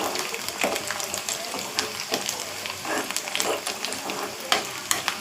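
Fenugreek seeds tempering in hot oil for a fish curry, giving a dense, crackling sizzle with bursts of popping and spatter close by, steady throughout.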